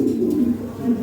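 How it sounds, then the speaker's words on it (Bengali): A pair of European Lahori Shirazi pigeons coos in a steady, low, throaty murmur that runs close and continuous throughout. "দেখেন কবুতর জোড়া"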